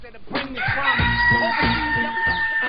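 A rooster crows loudly and close by, with a run of strong repeated calls across a few seconds and clucking mixed in, over a steady high background tone.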